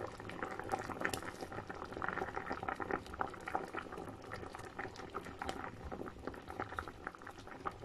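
Bilo-bilo rice balls boiling in a pot of water for ginataang bilo-bilo, a steady bubbling and gentle popping of simmering liquid heard close up without talk.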